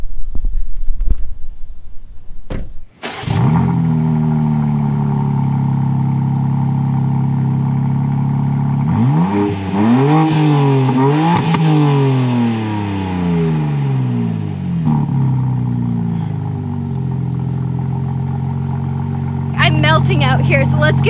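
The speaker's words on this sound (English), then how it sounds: "I'm gonna get in and rev the car and let me know if you guys can hear the difference" A BMW M2 engine is revved while the car sits parked, with sharp rising blips that climb and fall repeatedly, then settle into a loud, steady idle rumble close by.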